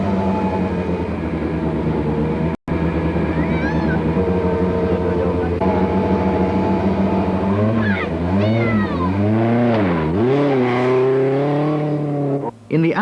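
A Peugeot rally car at the 1985 Safari Rally roars off down a dirt track at the start of a 66-kilometre section, its engine note climbing in repeated rising pulls as it accelerates away. A commentator talks throughout.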